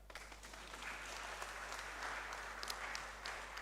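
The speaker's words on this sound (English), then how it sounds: "The women can clap to that." Women in a conference audience clap at an annual New Year school and conference, faint, steady, even applause over a low constant hum, no talk heard.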